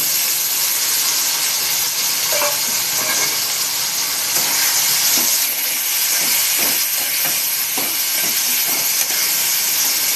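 Tomatoes dropped into a hot pan for a Chettinad mutton gravy give a loud, steady hiss of sizzling across the whole stretch, with scattered small crackles and pops near the cook.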